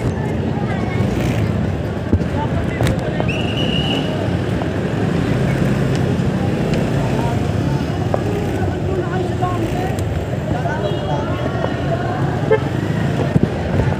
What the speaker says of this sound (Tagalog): Traffic ngayon Tuesday.